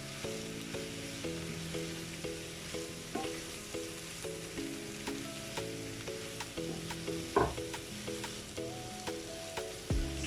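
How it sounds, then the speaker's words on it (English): Potato samosa filling cooks in a pan with steady sizzling and frying and occasional stirring scrapes, while music plays throughout; no talking. "So I'm going to let this cook for 5 minutes."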